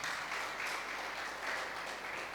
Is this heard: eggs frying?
no